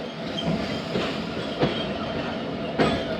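The Millat Express train rolls past on the railway with a steady roar of carriages and wheels, rhythmic clickety-clack joints and occasional sharper wheel knocks, loud and close, with no voices.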